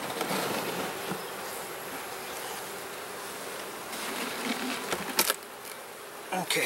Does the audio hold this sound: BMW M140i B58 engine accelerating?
no